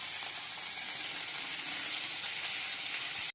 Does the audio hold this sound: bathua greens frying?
yes